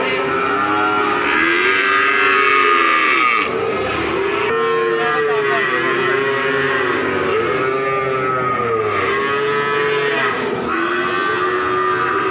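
Cattle at the Pon cattle market in Ambarawa, Central Java, including young bulls, lowing in a long run of loud, drawn-out moos close by, one call after another with almost no pause.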